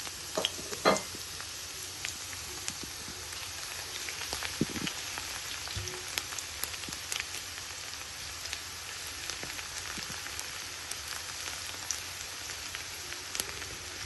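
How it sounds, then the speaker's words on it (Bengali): Garlic sizzles steadily in a hot pan while being fried for a Bangladeshi red amaranth dish. The crackling is soft and continuous, with occasional sharper pops and the clink of stirring. "একটু লাল করে ভেজে নিব"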